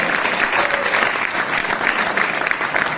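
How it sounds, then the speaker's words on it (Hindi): Sustained audience applause fills a hall at a Hindi poetry gathering (kavi sammelan) at IIT Kanpur, steady and dense throughout with no pauses and no one speaking over it. "तो तालियां ही आप पाएगी"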